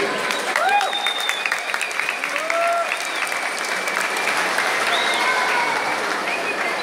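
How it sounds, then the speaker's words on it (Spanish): At a national folk dance festival in Pastaza, an audience claps in a sustained, full round of applause, with whistles and a few cheers sliding over the steady clatter. "Fuerte el aplauso para los queridos."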